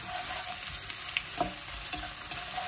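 Chopped onion fries in a pan with a continuous close crackling sizzle, broken by a few faint clicks and scrapes of stirring, with no one talking.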